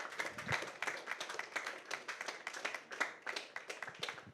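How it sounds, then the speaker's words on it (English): Rhythmic clapping from an audience at a film teaser and poster launch event, a moderate steady patter of many hands heard at a distance, fairly quiet overall. "A huge round of applause, everybody."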